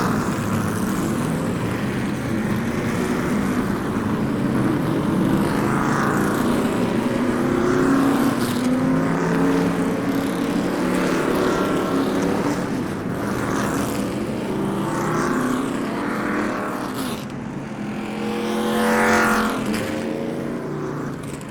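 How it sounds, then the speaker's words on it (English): Street stock race cars in a racing video game roll out onto the Boomtown Speedway track. Their engines drone and rise and fall in pitch as the cars pass one after another, loud and continuous, with no talk. "it's time we cleared pit road of all non-essential personnel so we can get these cars onto the track"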